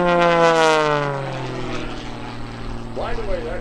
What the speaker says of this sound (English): That's the sound of the tips of the propeller being almost supersonic.